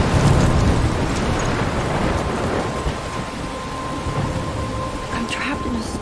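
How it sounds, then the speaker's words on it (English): Heavy rain pours down in a thunderstorm in the video game Life is Strange, with a deep rumble of thunder rolling under the steady hiss of rainfall throughout. "I'm trapped in a storm?"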